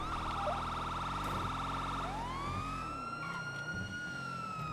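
A police car siren wails loudly and close, a steady tone that shifts into a rising and falling whoop, continuous with engine rumble beneath and no talk.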